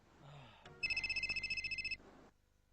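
A telephone rings in a household scene from an old PTV drama, one burst of rapid trilling bell pulses, loud and close, that cuts off as the receiver is picked up.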